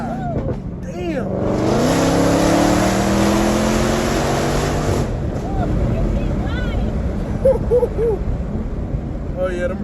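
A Dodge Hellcat with a loud new exhaust accelerates hard nearby, its engine note climbing steadily through the gears before easing off, with brief talk from people inside the car toward the end.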